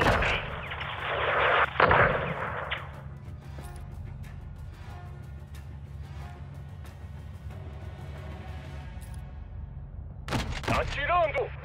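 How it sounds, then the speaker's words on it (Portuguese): Heavy weapon fire from a missile or 40 mm cannon in Call of Duty: Modern Warfare 2 booms loudly at the start, then gives way to a low rumbling background with scattered thuds and radio-style voices. "Usa um míssil ou a 40 milímetros."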